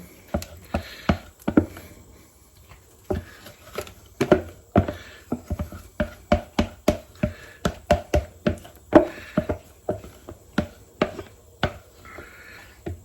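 A spatula works a fluffy omelette soufflée mixture in a frying pan, giving a quick series of sharp pats and taps with soft squishing between them, close and fairly loud.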